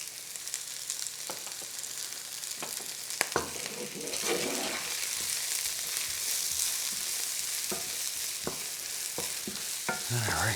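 Onions frying in a pan with a continuous hissing sizzle, broken by intermittent spatula scrapes and knocks as they are stirred, close and moderately loud.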